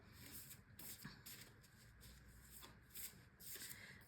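Cards being shuffled in repeated quick riffles and bursts, close and fairly quiet, with short pauses between each pass.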